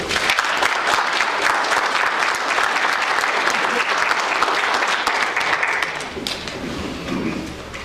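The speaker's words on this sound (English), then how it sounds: "I think we should all give them a round of applause." Attendees at a city council meeting give a sustained round of applause, dense and steady clapping that fills the room for several seconds before thinning out near the end.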